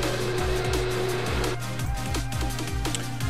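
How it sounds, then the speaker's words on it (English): A vacuum cleaner runs continuously while picking up concrete dust from spot grinding on a garage floor being prepared for epoxy, a steady loud whine with shifting drone tones and no talk. "So we've got more vacuuming to do."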